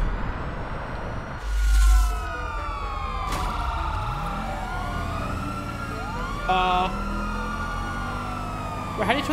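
A police car siren in GTA 5 wails up and down beneath engine rumble and occasional thumps, with brief bursts of other tones layered in, fairly loud throughout.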